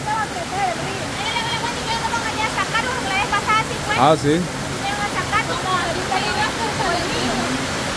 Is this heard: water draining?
yes